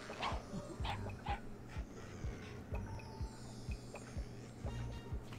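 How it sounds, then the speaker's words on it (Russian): A dog barks and whimpers in the video game Plants vs. Zombies Heroes. The effect sounds faint and repeated over a constant murmur of game background sound. "Собачка."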